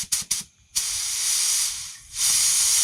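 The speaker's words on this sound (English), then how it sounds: "this is a high volume, low pressure gun. So I'm probably going to spray it around 10 PSI" An HVLP spray gun sprays primer onto a Foxbody front bumper cover at about 10 PSI: two short hissing bursts, a pause, then a long steady hiss that dips briefly and resumes, close and clear.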